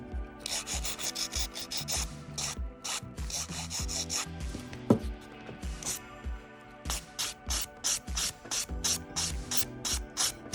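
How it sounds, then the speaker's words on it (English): A Halo 100/180 nail file rasps across acrylic nails in quick repeated strokes, a close, gritty rhythmic scratching with brief pauses between bursts. "I'm going to use my Halo 100-180 and my Halo buff, and I'm just going to file it in"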